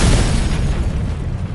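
A bomb explosion sound effect fills the moment with a loud, deep boom that rolls on as a thick, steady rumble for a second and a half without fading much.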